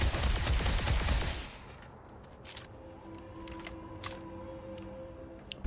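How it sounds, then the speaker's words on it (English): A semi-automatic SMG fires in Starfield: a rapid, dense string of loud shots for about a second and a half, followed by quiet ambience with a few faint clicks. "And then here's the SMG. This is a semi-auto, but you can still shoot it really fast."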